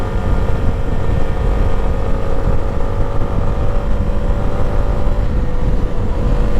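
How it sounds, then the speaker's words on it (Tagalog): A Yamaha Sniper 155 motorcycle accelerating, its engine a loud, steady droning hum that holds close and continuous throughout, with no voices over it. "Napakatulin itong motor na to."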